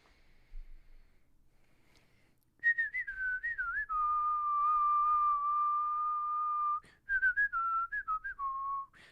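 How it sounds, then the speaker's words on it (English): A person whistles a tune along to faint music, several short phrases and then one long held note, close and clear over a quiet background. "is my whistling synced with the music?"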